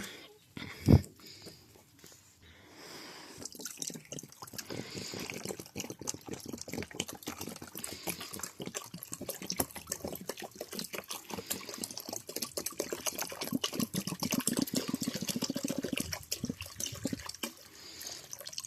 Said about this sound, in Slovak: To vymeníme vodu.